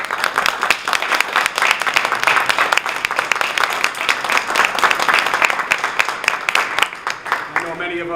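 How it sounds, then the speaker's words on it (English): A hearty round of applause from an audience at a high school Veterans Day ceremony honoring veterans, dense steady clapping across the room that fades out near the end. "just a hearty round of applause"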